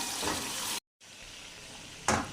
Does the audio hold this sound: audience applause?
no